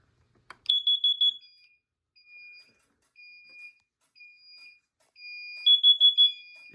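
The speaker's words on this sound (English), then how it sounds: "let's test out this CO detector." Carbon monoxide detector under test, sounding its alarm in bursts of rapid high electronic beeps separated by shorter single tones and pauses; loud, close and alone, no talking.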